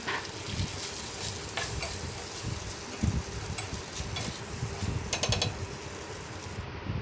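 Rice stir-frying in hot oil for fried rice, a steady close sizzle with scraping and stirring clatter throughout, a few louder utensil knocks near the middle and end.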